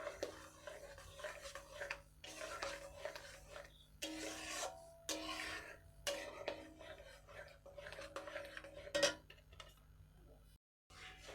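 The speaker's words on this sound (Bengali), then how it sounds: "নেড়ে চেড়ে ভালো করে মিশিয়ে নেব" A ladle scrapes and rasps around a pot as jaggery is stirred into rice-flour pudding spiced with black pepper, dry ginger and long pepper, with repeated rubbing strokes, a few soft clinks and a brief drop-out near the end.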